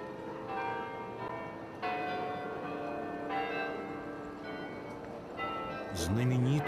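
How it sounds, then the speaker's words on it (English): The church bells of Bruges ring out in repeated resonant peals from a distance, with a narrator's voice speaking over them. "Famous are the bells of Brugge"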